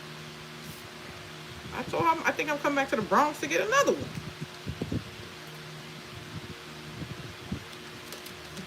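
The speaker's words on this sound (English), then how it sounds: "she had this industrial like fan. That's what y'all hear going." A large industrial-style fan runs as a steady, moderately loud broadband whoosh with a low hum throughout, while someone talks over it for a few seconds in the middle.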